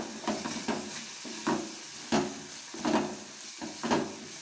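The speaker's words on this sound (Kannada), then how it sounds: "ಇವಾಗ ಇದನ್ನು ಚೆನ್ನಾಗಿ ಫ್ರೈ ಮಾಡ್ಕೊಳ್ಳಿ ಎಲ್ಲ ಮಸಾಲದಲ್ಲಿ" Egg bhurji masala with tomato and coriander powder fries in a pan, giving a soft sizzle under repeated scraping strokes of a spatula about every half second, close and fairly quiet, with no voices.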